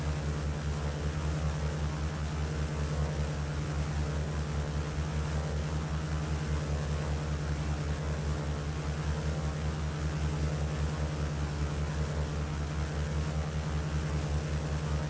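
A small propeller airplane's engine in Microsoft Flight Simulator X, flying near Yakima, Washington, drones steadily with a loud, constant low hum and a broad airy wash, unbroken and with no talk.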